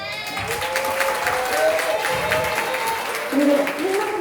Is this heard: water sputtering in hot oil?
no